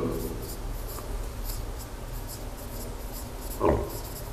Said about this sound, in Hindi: इसे हम लिखेंगे